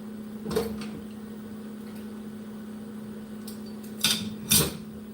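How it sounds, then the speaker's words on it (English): Dishes clink and clatter in a few separate bursts as they are sorted for the dishwasher, near and sharp, over a steady low appliance hum. "So right now I'm sorting all the dishes that I'm going to put them in the dishwasher."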